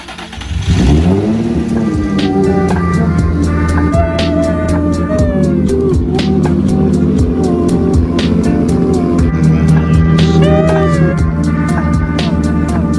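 A Nissan 350Z engine, fitted with a replacement wiring harness, starts for the first time in a year, cranking briefly and then catching into a loud, steady idle with a few revs that rise and fall.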